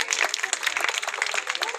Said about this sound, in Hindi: तालियों की गड़गड़ाहट रुकनी नहीं चाहिए, तालियां बजती रहनी चाहिए।